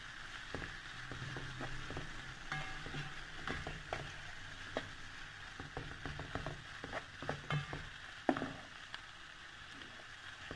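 Quick pasta being stirred in a pan after salt goes in, a faint ongoing sizzle with scattered soft scraping and clicking spoon strokes, no voices.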